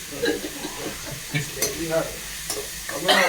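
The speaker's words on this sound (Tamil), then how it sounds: "அந்த பூடு, இஞ்சி பூடு, வெங்காயம் எல்லாம் நல்லா வந்து வதங்கினா" Onion, ginger and garlic stirred and sizzling in a pan for Chettinad chicken curry, with soft frying hiss, a few scraping stirs and brief bursts of louder spatter, close by.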